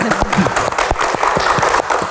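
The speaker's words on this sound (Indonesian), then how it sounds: "Tepuk tangan untuk Profesor Nasaruddin." Audience applause for a professor at an Indonesian religious Q&A event, a dense steady patter of many hands clapping at close range for about two seconds.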